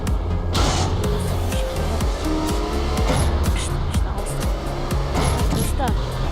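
Cars in the video game MTA rev and squeal their tires in a busy, continuous stream of engine noise, with a voice talking over it.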